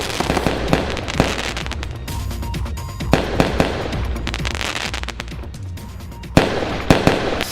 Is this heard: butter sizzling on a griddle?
no